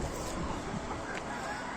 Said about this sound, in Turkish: Evet tavuklarımızın hepsi dışarıda.